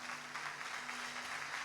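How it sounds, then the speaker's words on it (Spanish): A church congregation claps together after a preacher's call to praise, a steady, dense wash of hands lasting under two seconds with a faint low hum beneath. "Dale un aplauso grande al Señor."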